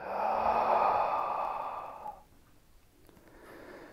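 A long, breathy exhale during a yoga session, close and fairly loud for about two seconds, then fading into quiet room tone with a faint soft breath afterward.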